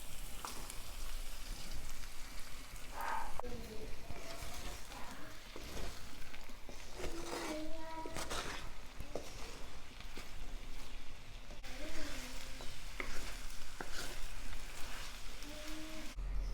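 Beaten eggs poured into a pan of cooked potatoes, frying with a steady broadband sizzle like light rain, continuous and moderately loud, no voices.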